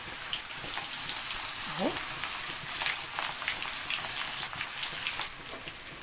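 Onions fry in hot oil for Egyptian koshari, a steady close hiss and crackle that runs throughout while a voice briefly speaks over it.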